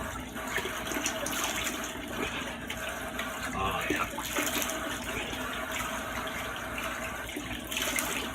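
Cold tap water runs steadily into a sink during a single-edge razor shave, a continuous splashing wash that fills the whole stretch, with a brief spoken remark over it.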